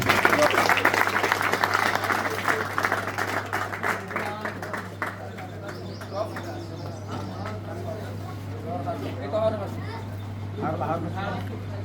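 Audience applause at a prize distribution ceremony for a district championship, a dense burst of clapping that thins out over several seconds, with a steady low hum underneath.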